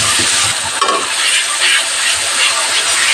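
Onion, almond and green chili paste frying in mustard oil over medium heat, giving a loud, continuous sizzle and hiss with light stirring scrapes throughout.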